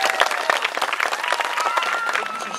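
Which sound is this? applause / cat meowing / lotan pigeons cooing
applause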